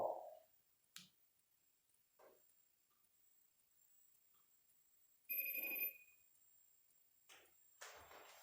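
A FaceTime video call rings out through a phone: short electronic tones separated by quiet gaps, with a few clicks and handling noises in between.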